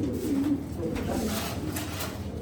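A female racing pigeon cooing close by, soft low throaty coos repeating over a steady background murmur.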